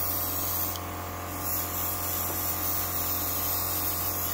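An airbrush spraying gold paint onto a picture gives a steady, close hiss over a constant low compressor hum, with no pauses.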